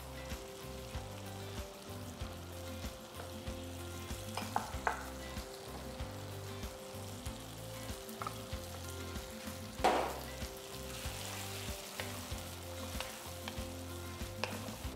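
Steady sizzling and frying of tomato puree in a pan for a bitter gourd curry, with a few stirring scrapes and a louder clatter partway through; no voices.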